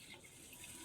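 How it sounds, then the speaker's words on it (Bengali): Water is poured over rice to soak it, a soft, steady wash of liquid that stays faint and even throughout the short moment. "প্রথমে চালটা একটু ভালোভাবে ধুয়ে নেব, দিয়ে আবার জল দিয়ে ভিজিয়ে রাখবো"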